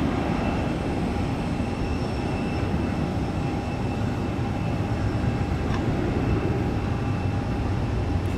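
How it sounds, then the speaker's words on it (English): Jet airliners on long takeoff rolls from runway 1 left at Tampa International, heard from a park: a continuous broad roar of engines, loud and steady throughout, with no talk. "Look at these long takeoff rolls here on 1 left."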